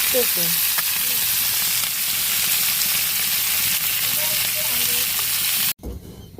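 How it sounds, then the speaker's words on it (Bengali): Tengra fish and egg fry together in hot oil in a pan, a loud, dense, continuous sizzle that runs steadily for several seconds before cutting off abruptly. "মাছ আর ডিম একসাথে ভেজে নিছি"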